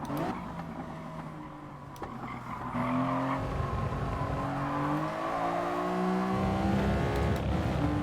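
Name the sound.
race car running wide and skidding, from the video game Gran Turismo Sport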